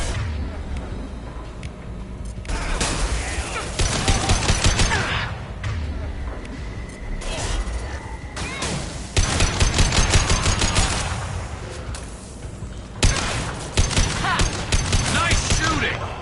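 Bursts of automatic and rapid gunfire from a Mass Effect 2 firefight, loud and dense in several long volleys separated by brief lulls, with squad voices calling out over the shooting.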